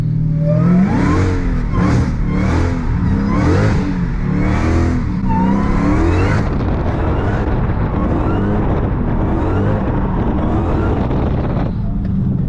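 A Dodge Hellcat drifts through an S-turn, its engine revving hard and tires roaring continuously and loudly, with wind buffeting the microphone throughout.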